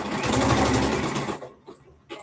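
A sewing machine stitches a top at a half-inch seam in a loud, close, continuous run that stops abruptly, leaving a few faint clicks and a brief resumption.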